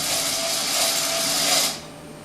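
A BSR actuator motor runs to the closed position after power is removed, a short, steady whirring drive lasting under two seconds before stopping.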